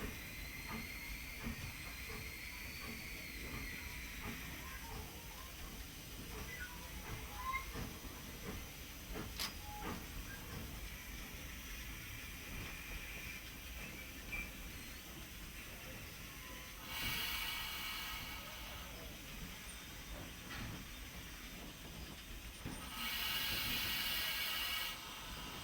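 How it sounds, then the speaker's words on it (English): Steam locomotive King Edward I eases into a station platform, with a steady low rumble under soft hissing steam, brief louder bursts of steam near the end, and no talk. "With just a whiff of steam to propel her into the platform, King Edward I reaches her destination."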